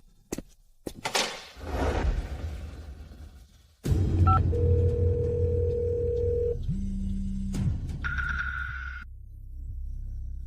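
A telephone handset picks up with a click, then steady dial-tone and dialing tones sound in stepped segments, with a lower ringing tone afterwards, all heard close and alone with no talk.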